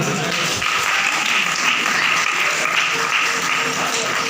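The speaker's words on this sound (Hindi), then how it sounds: "जोरदार ताली बजाओ" A church congregation claps steadily through a sermon, a continuous mid-distance wash of applause without pauses.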